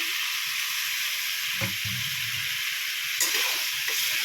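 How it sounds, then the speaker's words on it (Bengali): A constant hissing sizzle from fish curry spices frying in a pan, a brief splash and bubbling burst where a little water goes in, then steady frying. "অন্য একটু জল অ্যাড করছি"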